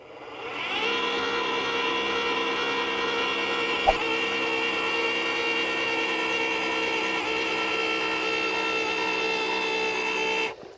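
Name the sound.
earth auger drilling into ground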